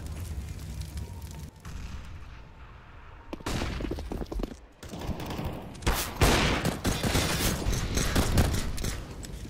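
Pistol gunfire in a Counter-Strike match between PRIDE and HAVU: dense, loud bursts of shots crackle in quick succession, with a brief lull before heavier volleys.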